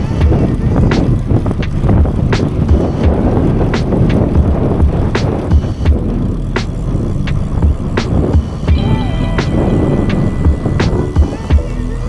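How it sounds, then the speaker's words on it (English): Steady wind buffeting a microphone while riding a road bike along a flat stretch near Lake Flanagan, heading straight into a headwind; a constant low roar runs throughout with scattered sharp clicks and rattles. "I feel like I'm hardly moving anywhere because I'm straight into this wind again"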